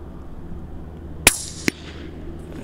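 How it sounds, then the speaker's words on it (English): Two sharp rifle shots ring out a fraction of a second apart, each a loud crack with the second one lighter, against a quiet outdoor background as the bullets strike a steel gong target. "we'll put a third shot in. There you go. Three nice shots in the gong."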